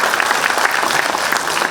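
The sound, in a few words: audience applause at a forum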